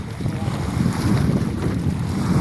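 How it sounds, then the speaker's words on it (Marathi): Strong storm wind roars and buffets steadily over the Narmada river, with low rumbling gusts and water sloshing nearby. "प्रचंड वादळ"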